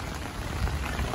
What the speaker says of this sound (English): She's definitely coming down with rain